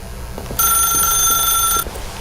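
A telephone in the video game The Stanley Parable gives one bright, steady electronic ring of about a second, loud and close over a quiet room tone.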